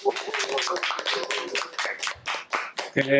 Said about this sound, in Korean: 자, 먼저 모두 박수 한 번 더 부탁드립니다.